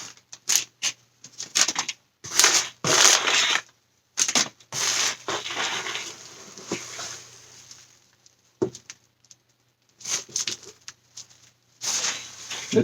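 Packing material from a Suzuki harmonica box being handled in bursts of crinkling, rustling and crushing, loud and close, separated by short pauses.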